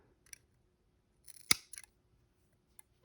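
A few quick, crisp scissor snips close by, trimming a crochet yarn end in a quiet room, with the loudest cut in the middle and faint clicks around it.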